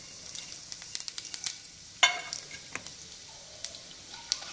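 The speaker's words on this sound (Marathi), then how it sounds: "आणि हे एक अर्धा मिनिट थोडंसं परतून घेऊया छान तुपावर" Whole spices (bay leaf, green and black cardamom, peppercorns, star anise and cumin) sizzle in hot ghee for a kaju masala, with soft frying crackle, scattered ticks and a sharper clatter, close and fairly quiet.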